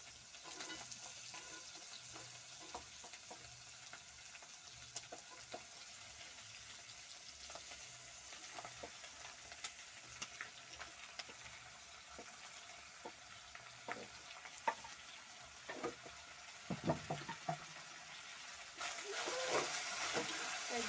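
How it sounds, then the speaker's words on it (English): Onions and tomatoes frying in a pot over a traditional cooking fire, a steady broad sizzle with occasional stirring scrapes and clinks, close and constant for the whole stretch. "I'm now going to add onions and tomatoes."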